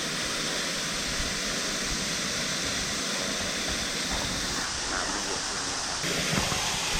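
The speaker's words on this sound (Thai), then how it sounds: "น้ำตกตรงนี้เป็นน้ำตกเสด็จนะครับ" Constant rushing roar of falling water, steady and unbroken throughout, like standing close to Luk Sadet waterfall in Yi-ngo district, Narathiwat, Thailand.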